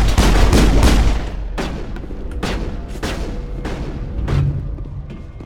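Gunfire in the video game Mass Effect: a rapid opening burst of loud shots followed by spaced single cracks and heavier booms with ringing tails, close and dominant with no talk over them.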